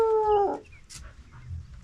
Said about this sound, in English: We have some dogs here.